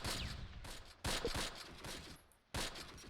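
In the World War II strategy game Close Combat, set at Tirepied in 1944, several sharp gunshots crack out in an uneven exchange of fire, some overlapping into short rattles, with brief near-silences between volleys.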